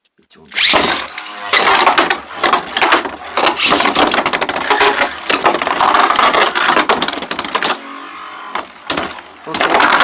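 Beyblade spinning tops, Hyperion and Master Diabolos in left-spin mode, clash in a stadium with a continuous loud whirring grind, sharp metallic scrapes and sudden collision clacks, while an excited voice talks over the battle.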